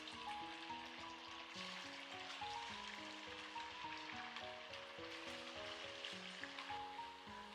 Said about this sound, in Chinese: 把腌制好的鸡胸肉分散下锅